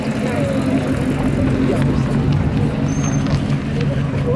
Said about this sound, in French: Ah, mais McLaren Artura.